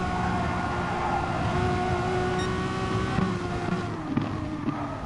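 Renault Megane Trophy race cars in a four-car fight for third place, heard as a steady, droning engine note with shifting pitch and a few brief revving peaks, from a racing broadcast.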